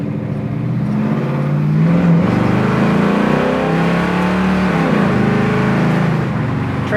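1974 Dodge Challenger V8 pulling steadily along a road from inside the cabin, a continuous loud engine drone with a gently rising pitch as it gains speed and shifts, no voices over it.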